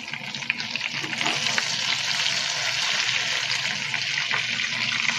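Fishcakes frying in a pan after being flipped, a steady, loud, close sizzle and crackle of hot oil that continues evenly throughout with no talking.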